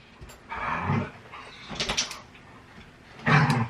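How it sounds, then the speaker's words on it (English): Two dogs scuffle on a bed, either fighting or playing. Rough growls and muffled bursts come in three clusters, close by and fairly loud, with rustling between them and no speech. "I'm dog sitting and they're currently fighting or playing on the bed right here"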